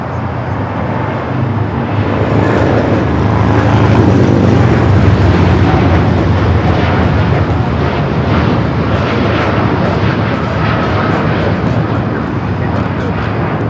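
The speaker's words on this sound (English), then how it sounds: "This is Japan Airlines Flight 69 taking off to Osaka on the 787-9 Dreamliner." A Japan Airlines Boeing 787-9 Dreamliner taking off from Los Angeles airport gives a loud, rumbling engine roar that swells after the first few seconds and then holds, with voices talking faintly underneath.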